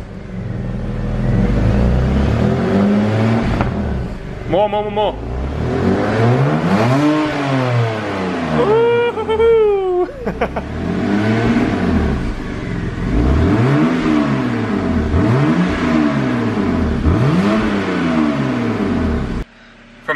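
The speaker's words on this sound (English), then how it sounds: "give it a rev" A car engine with a modified exhaust revving repeatedly, each blip rising and falling in a deep, loud rumble close by, while a voice eggs it on.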